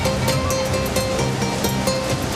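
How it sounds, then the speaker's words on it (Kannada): Jog Falls in Shivamogga, swollen by monsoon rain on the Sharavati, crashes down in a loud, constant broadband roar with no pauses, like heavy surf. "ಹಾಲ್ನೊರೆಯಂತೆ ಧುಮ್ಮುಕ್ಕುತ್ತಿರುವ ಜೋಗ ಜಲಪಾತ ನೋಡೋದೇ ಚಂದ."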